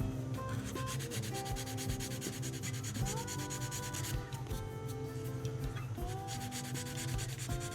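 Fine sandpaper steadily rubbing over a white model car body, a continuous dense scratching hiss with a faint background hum, no talking.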